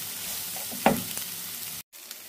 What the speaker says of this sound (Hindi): मैदे को पहले अच्छी तरह से हम इसमें भून लेते हैं